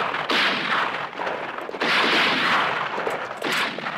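Dense bursts of gunfire crackle in waves, loud and sustained, with brief lulls between heavy volleys.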